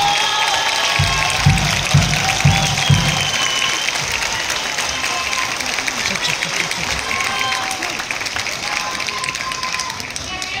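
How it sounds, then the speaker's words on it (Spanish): A large audience applauds folkloric ballet dancers at a municipal troupe's second anniversary show, a sustained dense wash of clapping with crowd voices mixed in throughout. "Me gustaría que le brindáramos nuevamente un fuerte aplauso a este equipo tan maravilloso de bailarinas que tenemos."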